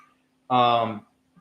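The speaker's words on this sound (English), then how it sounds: "Shh, the cat." A cat gives a single meow of about half a second, fairly loud and close, with faint room noise before and after.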